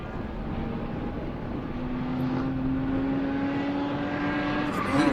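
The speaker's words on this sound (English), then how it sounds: "You can hear the howl of it." At a car club race meeting, a distant race car engine drones steadily, its pitch rising slowly into a drawn-out howl before a brief louder rush at the end.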